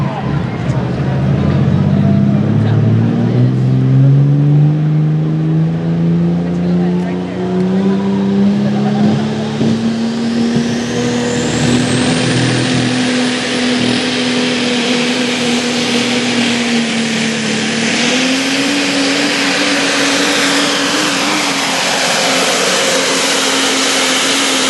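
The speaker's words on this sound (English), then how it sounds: "It's a 2002 Dodge as a triple turbocharged, running in the red." A triple-turbocharged 2002 Dodge truck makes a pulling run on a track, its engine roaring loud and sustained as the pitch climbs and holds with a rising turbo whine, while an announcer talks over it.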